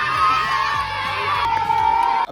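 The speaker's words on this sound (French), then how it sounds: "Après tout, c'est plutôt mélodieux, les cris de bonheur" Children shout and cheer loudly together at a sports trophy ceremony, a dense, excited crowd of high voices with whoops rising over a continuous roar.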